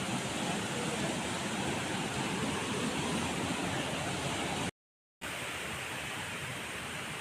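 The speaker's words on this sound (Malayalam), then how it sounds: "വെള്ളച്ചാട്ടമാണ്." A waterfall roars as a dense, steady rush of falling water, loud and unbroken apart from one brief cut, with no voices.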